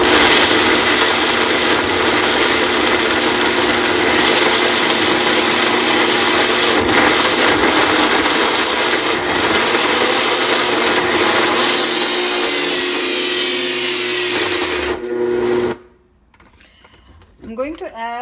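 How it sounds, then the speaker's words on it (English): A mixer grinder whirs loudly and steadily, grinding dry-roasted chopped dry fruits and figs into a smooth paste, then cuts off abruptly near the end, leaving quiet room sound and a brief voice. "And then I'm just gonna grind them to make it a smooth paste."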